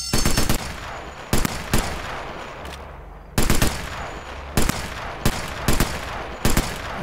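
Rapid bursts of automatic gunfire from a weapon with recoil in the VR shooter Sniper Elite VR, loud and close, about seven short volleys separated by brief pauses over a low ambient hum.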